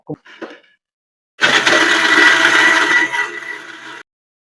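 A semi-automatic vegetable and fruit slicer machine slicing brinjal, a loud steady whirring and crunching burst lasting about two and a half seconds after a few faint knocks.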